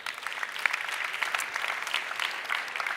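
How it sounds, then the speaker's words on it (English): Audience clapping for finalists after a life science pitch competition at a tech conference stage, a bright, steady round of applause from a sizable crowd with scattered sharper claps, no talk over it. "Let's give them all a big round of applause."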